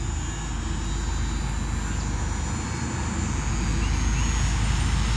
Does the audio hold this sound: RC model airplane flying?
yes